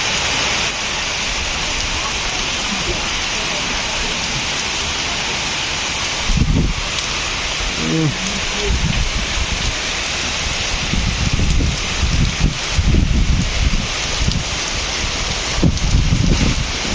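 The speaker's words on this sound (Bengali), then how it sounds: "প্রচুর পরিমাণে বৃষ্টি।" Heavy rain pours down outdoors on an overcast day, a loud continuous hiss with gusty rumbles, as voices talk intermittently over it.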